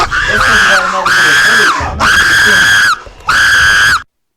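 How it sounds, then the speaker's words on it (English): Loud, shrill screaming comes in three long bursts with short breaks between them, close and piercing, then stops suddenly. "Stop screaming!"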